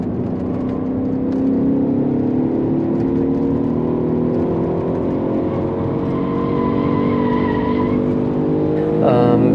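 Alfa Romeo 147 GTA with its Busso V6 at speed on the Hampton Downs Club Circuit, engine droning loud and continuous as the pitch climbs and settles through gears, with tire squeal through the corners.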